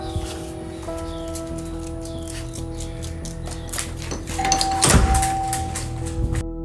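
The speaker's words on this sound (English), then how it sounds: "the doorbell suddenly begins to ring for no reason" A home doorbell rings indoors with sustained chime tones ringing out over a quiet room, a sharper burst of noise near the end.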